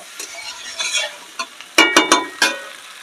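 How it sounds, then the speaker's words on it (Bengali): Mixed vegetables with spices, five-spice seeds and split dried and green chillies, stirred in a hot pan: a handful of quick, close scraping strokes over a soft frying sizzle, with no talk. "এবার সব সবজির সঙ্গে ভালো করে মশলাগুলো মিক্স করে তারপর আমি জল ঢেলে দেবো।"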